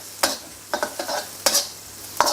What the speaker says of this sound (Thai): พอน้ำมันเริ่มร้อนใส่พริกกระเทียมที่เราปั่นไว้ลงไปครับ ผัดให้หอมเลยนะ